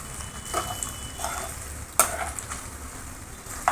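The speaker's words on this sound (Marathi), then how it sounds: "चिली फ्लेक्स आणि व्यवस्थित मिक्स करायचं आता आपल्याला." Macaroni masala pasta with chili flakes stirred in a pan, a soft frying sizzle under scattered scrapes and clicks of the spoon, with a sharper knock near the middle.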